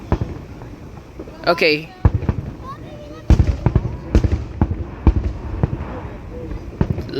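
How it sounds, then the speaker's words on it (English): Fireworks at a 4th of July show go off in a string of loud, sharp booms and cracks at irregular intervals, some close and punchy, with a whistling rocket early and a voice speaking briefly. "Looks like the whole town is literally shaking from these big fireworks."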